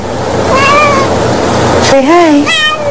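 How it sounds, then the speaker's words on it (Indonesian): A cat meows loudly and close up in a series of short rising calls that resemble the word "hi", while a person talks over it to prompt the cat. "Meski diucapkannya pelan dan sedikit malu-malu pada kamera, namun akhirnya kucing imut ini mau mengucapkan kata hai berkali-kali."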